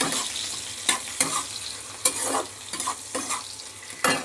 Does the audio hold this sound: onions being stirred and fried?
yes